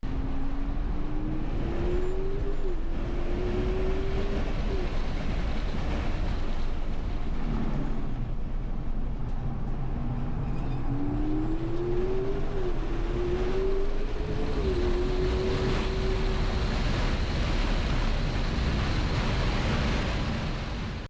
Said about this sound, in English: Unplugged Performance shared a quick clip of the Model S Plaid at the Laguna Seca Raceway